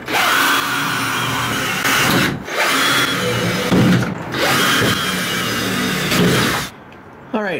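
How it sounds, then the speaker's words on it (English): Power drill boring a small hole in a trailer shelf rail, a loud, close whine in three long sustained runs separated by brief pauses, then stopping near the end. "I just drilled a small hole in each rail"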